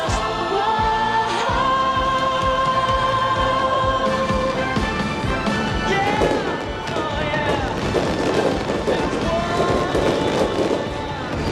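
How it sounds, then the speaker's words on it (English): Fireworks burst repeatedly with crackling pops and booms over loud music and a cheering crowd at Singapore's National Day Parade 2000 at the Padang, continuous and busy throughout. "Splendid fireworks charging the already electric atmosphere at the Padang."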